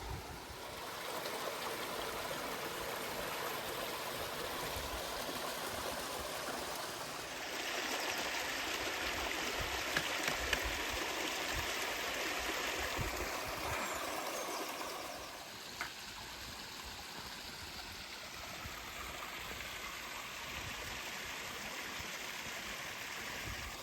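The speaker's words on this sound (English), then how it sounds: "This here is the biggest waterfall on Birchen Clough, and you know what, there's more water flowing than I expected here." A waterfall on Birchen Clough, a moorland stream feeding Ewden Beck, pours in a steady, full rush close by, running higher than usual, with the roar brightening and swelling for a stretch midway before settling back.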